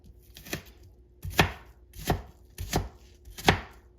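A knife chops food on a board while someone cooks at home, with five firm, evenly spaced strikes sounding close and crisp over a faint steady hum.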